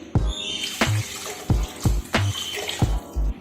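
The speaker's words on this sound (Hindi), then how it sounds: "अब इसमें हम पानी शामिल कर रहे हैं। जितने चावल लिए हैं इससे डबल पानी डालेंगे।" Water poured into a pot of rice while cooking egg biryani, coming as a series of splashy, sloshing bursts at a steady rhythm, close and fairly loud, with no talking.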